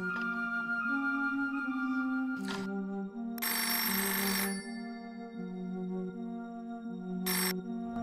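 A telephone ringtone plays steadily under a continuous electronic melody with sustained tonal notes, loud and close, with brief bursts of hiss and clatter in between; no one speaks.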